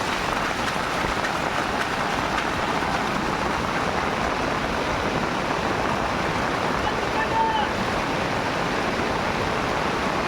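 Floodwater in Konkan rushes through a breached earthen field embankment after heavy rain, a loud, broad, unbroken roar of flowing water that stays constant throughout.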